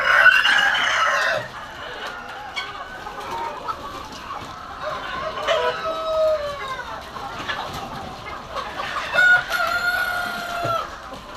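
Large parent-stock hens and roosters in mixed colours, including golden, cluck steadily at close range, with a rooster's crow rising early and other crows and calls breaking through later.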